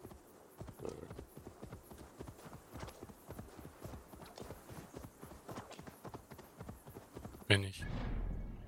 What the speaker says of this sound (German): Ich hoffe, ich reite gerade auch richtig.